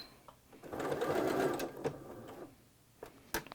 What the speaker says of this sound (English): I'm gonna just put my machine back, hit that back stitch button